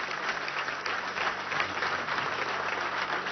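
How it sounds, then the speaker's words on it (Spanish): Crowd at a Venezuelan government housing event applauds the armed forces, a dense continuous roar of clapping at even loudness throughout. "Un aplauso a la Fuerza Armada Nacional Bolivariana."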